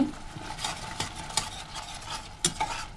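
A spoon scrapes and clacks against a pot as spices and sour yogurt for beef curry are stirred and sautéed, giving a few sharp strokes over a low sizzle.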